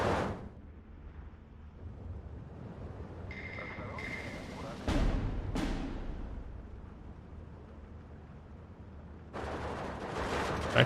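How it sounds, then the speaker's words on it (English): An MG42 machine gun fires amid a Steel Division 2 wartime battle, bursts crackling at mid distance over a dense rumble of combat noise, with sharp louder reports around the middle of the stretch. "Actual MG42 there"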